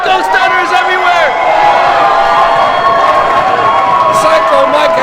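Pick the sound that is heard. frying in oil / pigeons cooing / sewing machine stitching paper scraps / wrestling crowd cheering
wrestling crowd cheering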